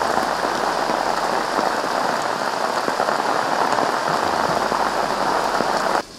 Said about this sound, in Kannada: ಬೆಂಗಳೂರಿನಲ್ಲಿ ರಾತ್ರಿ ಇಡೀ ಸುರಿದಂತ ಮಳೆ ಸರಣಿ ಅವಾಂತರಗಳನ್ನೇ ಸೃಷ್ಟಿಸಿದೆ